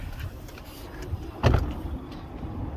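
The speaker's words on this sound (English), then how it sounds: "Okay, soft close doors." A Tesla Model X P90D door pulls itself shut with its powered soft-close mechanism, a low motor whir ending in a firm thud midway, with car noise around it.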